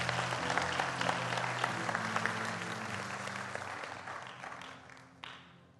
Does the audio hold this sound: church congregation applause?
yes